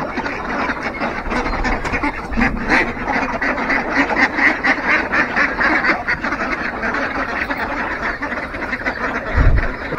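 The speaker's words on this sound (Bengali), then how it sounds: "এই হচ্ছে আমার হাঁস মুরগি" Dense, continuous quacking from a crowd of ducks, many birds calling at once and overlapping, steady and fairly loud throughout.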